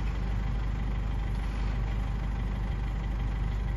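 A tractor engine runs at a steady, loud drone while loading at a village sawmill in Orlovka, Kyshtovsky district. The hum is continuous and close, with no talking.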